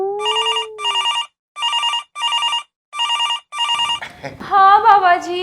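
A telephone rings in repeated double bursts of an electronic trill with short gaps between them. A voice then begins speaking near the end.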